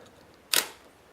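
A Hasselblad 500 EL/M camera fires once: a single brisk mechanical snap of shutter and mirror with a quick motor whir, close and crisp against a faint hum.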